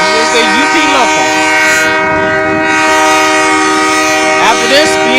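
A Union Pacific manifest train running on the UP track into a rail yard, a loud sustained horn chord with rumbling rail noise underneath, steady and close throughout.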